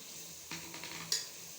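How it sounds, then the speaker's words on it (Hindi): Tomatoes go into a pan of frying masala for chicken korma, with a soft sizzle under a few clinks and stirring scrapes, the sharpest knock near the end, close and fairly quiet. "अभी इसमें मैं टमाटर डाल रही हूँ।"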